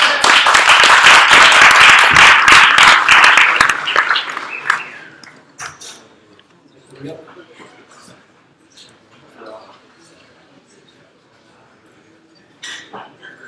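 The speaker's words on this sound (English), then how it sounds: "Big round of applause, guys" A round of applause rises from the audience at an Ethereum meetup in Hong Kong, dense clapping for about four seconds that then fades to scattered claps, followed by quieter room sounds.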